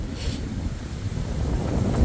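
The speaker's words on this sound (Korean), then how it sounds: "경주도 지금 바람 소리 들어보시면 아시겠지만 매섭게 바람이 불고 있습니다" Strong, cold wind blows steadily outdoors in Gyeongju on a freezing day, a loud continuous rumble buffeting the microphone with gusts rising toward the end, and no voices.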